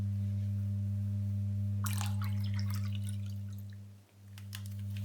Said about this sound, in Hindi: तो सबसे पहले हम यहाँ 2 कप पानी लेंगे.